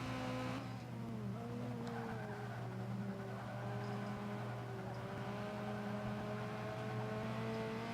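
A Subaru BRZ in B Class tune in Forza 5 runs at full throttle, its engine holding a steady, sustained drone with a brief pitch dip early on before climbing again, accompanied by faint tire squeal.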